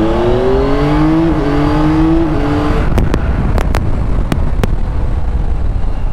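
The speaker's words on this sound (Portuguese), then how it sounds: "o tal quick shift aqui é muito fixe" A Yamaha Tracer 9 motorcycle accelerates hard with its quickshifter, engine rising through quick gear changes, then a burst of sharp pops as it runs on under heavy wind noise, close and loud.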